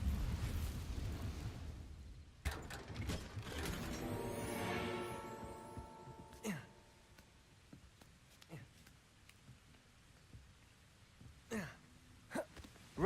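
A Confringo blasting spell explodes in the video game Hogwarts Legacy, a deep rumbling boom with a swelling magical whoosh that fades out, followed by scattered softer impacts and clicks.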